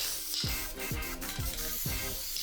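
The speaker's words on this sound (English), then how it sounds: "I use a spray adhesive on the back to attach my felt backing." A steady hiss of a spray adhesive can running continuously onto felt rug backing, with a few soft rhythmic thumps underneath, close up.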